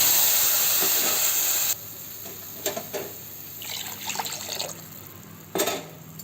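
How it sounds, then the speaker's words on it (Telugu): Water for rava khichdi runs in a loud hissing stream that cuts off abruptly, followed by softer intermittent splashes and pours in a pot, close and without talk. "2 ముక్కల కప్పు నీళ్ళు పోయాలి."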